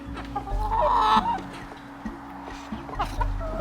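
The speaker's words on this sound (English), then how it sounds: "I won my rooster over, didn't I?" A rooster on a farm gives repeated close, loud clucks in short bursts, with a person speaking softly between them.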